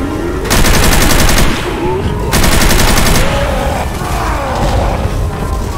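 A belt-fed machine gun fires in Counter-Strike on the Office map, with two long, loud, rapid bursts of continuous gunfire separated by a short break, followed by fainter game noise.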